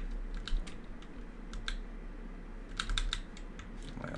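Computer keyboard keys and mouse buttons click in quick, irregular bursts at close range during gameplay, fairly quiet against a low background hum.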